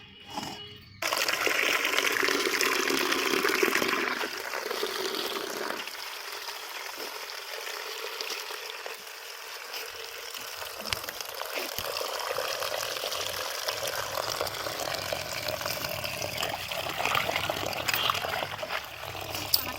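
Tap water runs steadily from an outdoor faucet while vegetables caked with sand and mud are washed beneath it, a continuous close splashing hiss that starts abruptly and carries on with varying intensity, no talking.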